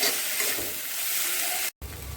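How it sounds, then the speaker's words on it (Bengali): Fish masala with chili, coriander and cumin powder, salt and turmeric fries and is stirred in a pan, giving a loud, continuous sizzle close by with one brief break near the end. "এটা একটু ভালো করে কষিয়ে নেব।"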